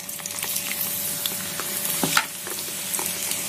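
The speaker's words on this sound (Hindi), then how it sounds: "अब हम इसमें मेथी दाना ऐड कर देंगे, प्याज भी डाल देंगे" Fenugreek seeds and onion sizzling and crackling in hot oil during preparation of a homemade herbal hair oil, close and constant frying hiss with scattered pops and stirring.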